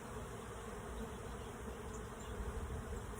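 A honey bee swarm buzzing in a dense, steady drone that stays constant throughout, faint and uniform, no voices.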